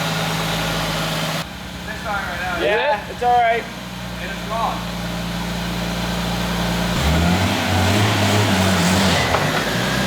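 An R33 with a swapped RB25DET engine idles low and steady, then revs up as it pulls away, while people chat over the engine inside the car.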